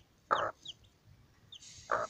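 A young chick gives short clucks, two distinct bursts about a second and a half apart with softer peeps in between, close and fairly quiet.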